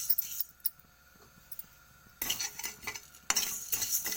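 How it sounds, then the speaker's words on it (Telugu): Cumin and coriander seeds dry-roast together in a pan, stirred with a spoon, giving light scraping clinks and two bursts of close rattling sizzle, with no one talking. "జీలకర్ర ధనియాలు వేయించుకున్నాము."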